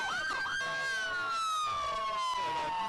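A state trooper vehicle's police siren in a video game, a loud close wail sweeping down in pitch over about three seconds, steady and alone without talk.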